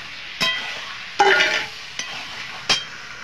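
Chicken goes into a pan of frying masala: a few sharp spoon strikes and scrapes, one longer burst of sizzling as the meat is stirred, all close-up with quiet gaps between.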